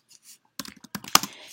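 Keys clicking on a computer keyboard as a question is typed into a Word document, a short quick burst of close keystrokes after a brief pause.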